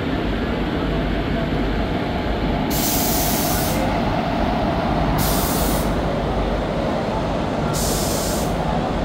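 A crowded Konkan Railway passenger train rumbles steadily while running, heard from inside the luggage compartment, a loud continuous roar with periodic hissing bursts every few seconds.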